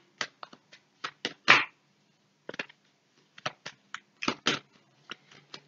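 A playing card is laid down over the queen of diamonds during a card routine, giving a series of close, crisp slaps and rustles of card on card in irregular bursts, with no talk.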